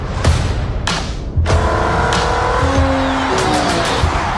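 Race cars at the 24 Hours of Le Mans, heard in a movie trailer, roar past loudly. High engine whines shift in pitch and tires squeal over a dense, continuous rumble.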